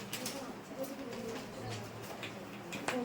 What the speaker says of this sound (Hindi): 2-3 कबूतर बोल रहे हैं,